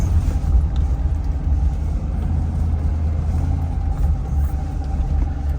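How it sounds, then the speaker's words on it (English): Trucks are loaded on a work site under a steady low engine rumble and idling drone, close and continuous, with no clear clanks or drops standing out. "and the trucks get loaded"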